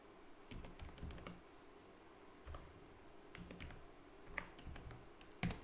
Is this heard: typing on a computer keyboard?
yes